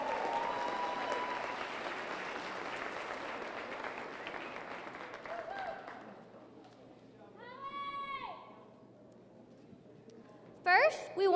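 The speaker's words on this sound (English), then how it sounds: "Please give them a round of applause." An audience at a youth fair show applauds scholarship recipients, a dense spread of clapping that gradually fades out. A few whistled and squeaky sounds follow, then brief noises at the end.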